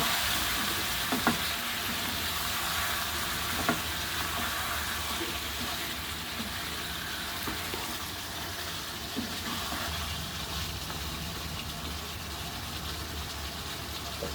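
Mutton and potato pieces sizzle steadily in a hot pan for Bangladeshi mutton curry, a continuous close frying hiss with occasional soft clicks of a spoon stirring through, no voices.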